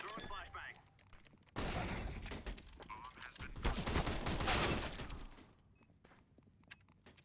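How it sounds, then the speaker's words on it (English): A flashbang grenade and gunfire in a competitive video game match: a sharp burst erupts, followed by dense overlapping shots and clattering for several seconds before fading to quieter action. "Throwing flashbang."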